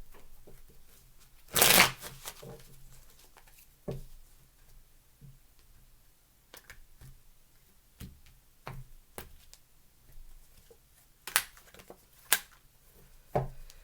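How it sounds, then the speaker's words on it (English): A deck of tarot cards is shuffled in a quiet room: one loud riffling burst early on, then scattered soft taps, slides and sharper card snaps at irregular intervals, with no talking. "Last shuffle, please."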